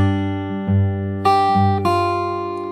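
Close, clear fingerstyle acoustic guitar plays a section of a pop song: a few plucked chords in an even rhythm, each left to ring out, with no talking.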